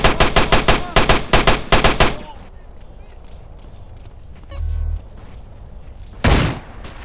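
Rapid automatic gunfire in GTA San Andreas, several loud bursts of shots in quick succession during the first two seconds, then quieter background game noise and a couple of low thumps.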